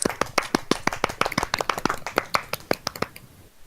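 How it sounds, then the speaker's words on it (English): One person claps hands alone, a quick run of about two dozen sharp, close claps in a steady rhythm that stops just before the end. "And I'm clapping for myself."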